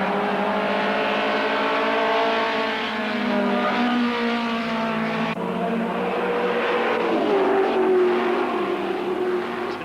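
Saloon race cars battling through the last corner of the last lap in the 1981 Tricentrol British Saloon Car Championship, engines howling and shifting pitch continuously, loud and sustained throughout.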